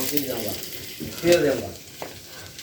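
Onions and spices fry for a fish curry, a close sizzle broken by stirring strokes and scraping against the pan, with faint voices now and then.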